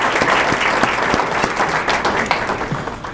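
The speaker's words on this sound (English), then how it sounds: "If you could join me in a round of applause." A room of attendees at a college business lunch in De Pere applauds loudly and continuously, a dense wash of clapping that holds steady then eases slightly toward the end.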